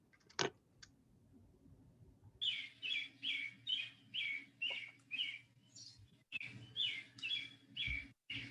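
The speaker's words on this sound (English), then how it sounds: "Supervisor McKeel, is that your bird?" A pet bird chirps repeatedly in a quiet room during a meeting, a rhythmic series of bright, high calls about once per second, with a few clicks and faint background hum.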